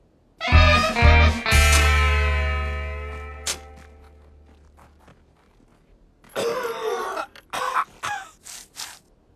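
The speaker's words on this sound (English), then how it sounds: "It was just a cough." A few harsh, rasping coughs burst out loudly, then trail into quiet before another cluster of rough, choppy throat sounds follows.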